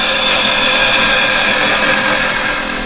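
A woodturning tool cuts into wood spinning on a lathe, giving a loud, continuous, even scraping whir close up that fades slightly at the end, with no talk.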